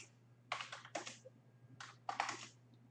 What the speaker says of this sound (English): I press Shift and Enter together on the keyboard in order to make a new line.